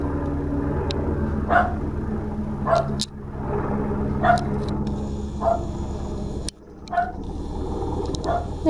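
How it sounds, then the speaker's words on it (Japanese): A dog barks in short single yaps, about six evenly spaced, over a steady engine hum inside a vehicle. "ノアちゃんに吠えられちゃった"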